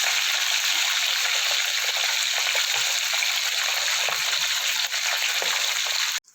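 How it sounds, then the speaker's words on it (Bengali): Khoira fish frying in hot oil, a dense, continuous sizzle with crackling pops that holds steady and loud before cutting off abruptly at the end. "এটা আমার গরম হয়ে গেছে, এবার আমি মাছগুলো দিয়ে দেবো"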